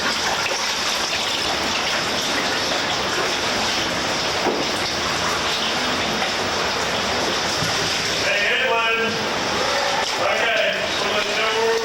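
A waterfall roars ahead inside a flooded slot canyon, a loud continuous rushing gush of falling water filling the space, with faint voices briefly audible near the end.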